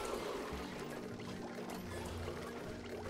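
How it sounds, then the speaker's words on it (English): A pump in the Oxygen Not Included video game draws up polluted water with a steady, continuous gurgling pour that stays loud and constant throughout, with no speech over it. "I have a pump here that is just sucking up our polluted water."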